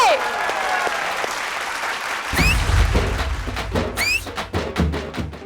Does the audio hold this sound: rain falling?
no